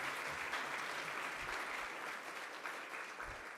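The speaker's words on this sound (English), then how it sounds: "So another round of applause for everyone you heard from." Steady applause from a conference audience at a summit's closing session fills the clip, a dense patter of clapping at moderate volume throughout.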